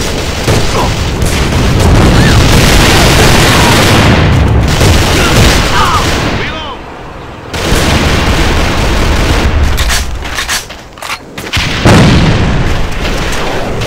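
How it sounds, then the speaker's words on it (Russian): A grenade explodes in a tank combat video game, followed by loud, sustained booming and rumbling battle noise that briefly dips before surging back. "Бросаю гранату!"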